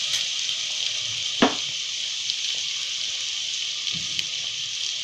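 Garlic paste sizzling in hot oil as it's stir-fried for jeera rice, with cumin going in; a steady, close, loud hiss throughout, broken by a sharp utensil clank and a couple of softer scrapes.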